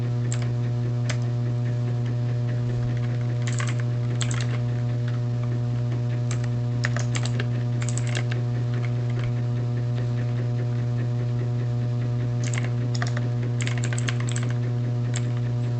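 Typing on a computer keyboard while entering a SQL query, irregular bursts of light clicks over a steady electrical hum, close and with no talking.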